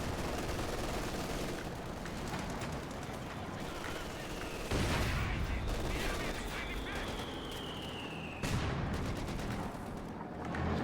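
Machine gun fire in a WWII strategy video game match with Shermans and a Panzer IV, sustained crackling bursts with heavy booms among them, heard under a commentator's talk.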